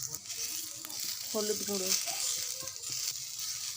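Spices with turmeric powder and salt sizzle steadily in a hot kadai for a bean and egg curry while being stirred, with a voice speaking briefly over the frying.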